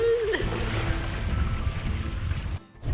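Ocean waves wash and churn around a sailing boat at sea, a broad, steady rush of water and wind noise close to the microphone, with a brief voiced call at the start.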